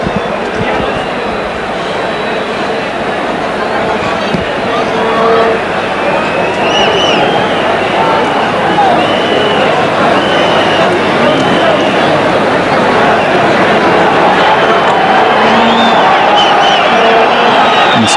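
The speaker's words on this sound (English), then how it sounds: "Crowd now indulging in a bit of referee baiting" A stadium crowd at a 1989-90 Liga football match between Real Madrid and Osasuna keeps up a continuous, dense roar of jeering and whistling at the referee. A commentator talks over the noise almost the whole time.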